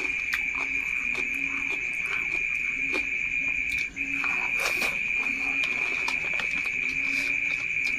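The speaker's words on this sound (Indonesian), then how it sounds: "Kalau ada suara kodok, mohon maaf, kedengeran." Frogs and insects call on a still night outdoors at home, a dense steady chorus with a sustained high trill over scattered croaks, continuous throughout with no voices.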